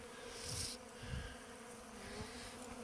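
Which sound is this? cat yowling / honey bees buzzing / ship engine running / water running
honey bees buzzing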